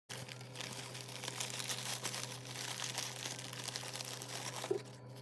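Scraps of paper, including yellow crepe paper dampened with liquid starch, crinkle as they are pressed onto the flat back of a papier mâché bird bead. The faint rustling is continuous and close, with no talking.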